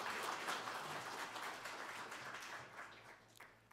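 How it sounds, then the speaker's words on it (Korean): Applause from an audience at a Buddhist spring dharma service, a dense, even patter of many hands that holds strong and slowly tapers toward the end. "큰 박수 부탁드립니다."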